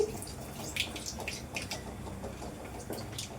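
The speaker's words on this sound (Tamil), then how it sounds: "கடுகு பொரிஞ்சிருச்சு" Mustard seeds popping and spluttering in hot oil in a pan, quick irregular crackles and pops at a quiet level.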